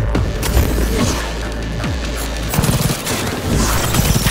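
Rapid pulse rifle fire in Cyberpunk 2077 Phantom Liberty, a dense, loud stream of automatic shots with heavy booming impacts running continuously throughout.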